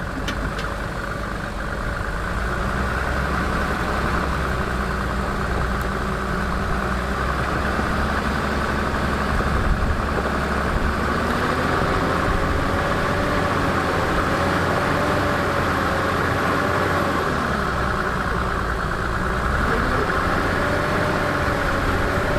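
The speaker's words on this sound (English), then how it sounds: "So, the interaxle lock helped, but not enough to climb up. Now we'll engage the rear axle locks," A 1995 Mercedes G-Wagon G300 converted to a 6x6 climbing with its axle locks engaged, heard as a steady, loud engine drone with a low rumble and a slowly wavering pitch.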